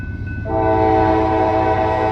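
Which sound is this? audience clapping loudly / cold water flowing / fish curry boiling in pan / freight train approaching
freight train approaching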